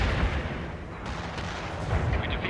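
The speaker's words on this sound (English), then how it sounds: "Need some medium artillery?" Medium artillery fire booms in the World in Conflict strategy game, heavy low rumbling blasts rolling one into another across a short battlefield stretch.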